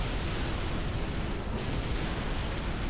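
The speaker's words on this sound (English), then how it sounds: "Explosions everywhere, directed by Michael Bay." Dense, roaring explosions from the Halo 3 video game fill the whole span as a continuous rumbling blast with no clear break and no voices.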